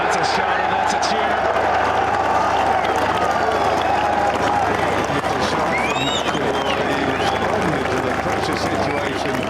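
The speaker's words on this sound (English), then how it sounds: "That's a shot and that's a cheer." Gallery crowd at the 2016 Irish Open golf tournament cheering and applauding after a shot, a broad sustained roar from a large outdoor crowd with commentators talking over it.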